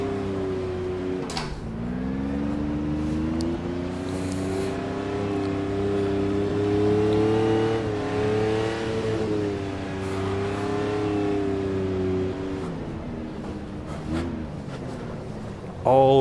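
A McLaren F1 engine drones steadily in a sim racing game while drifting through the Carousel at a snowy Nürburgring, the revs rising and falling through the long sliding corner, close and continuous.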